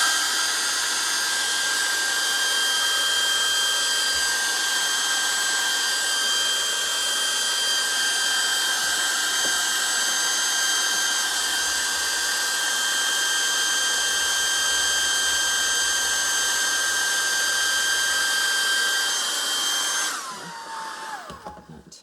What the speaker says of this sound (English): I've got a hairdryer here. I'm going to hit it with a hairdryer a little bit.